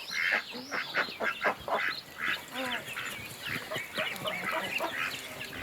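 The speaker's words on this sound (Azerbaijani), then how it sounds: "Hinduşkaları belə ətlidir ya əməlli başlı." Turkeys and other poultry in a village yard in a forest village in Azerbaijan, with a busy chorus of gobbling, clucking and quacking calls from several birds, fairly close and continuous.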